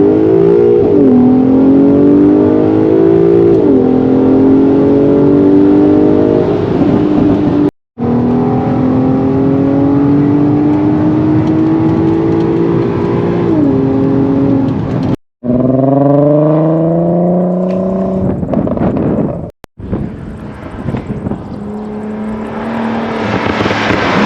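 A Volkswagen Golf 5 R32 engine revs hard and loud, pitch climbing and dropping through several gear shifts with brief cuts between pulls.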